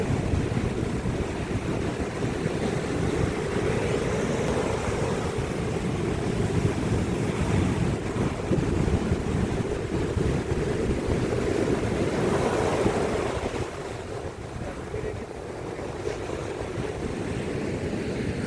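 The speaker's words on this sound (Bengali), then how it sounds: "আর ঠিক পাশে এইদিকে যেমন তামাল উচ্ছাল সমুদ্র" Sea waves roll and crash steadily onto a clean beach, a continuous broad roar with wind buffeting the microphone, loud and close throughout, easing slightly toward the end, with no voices.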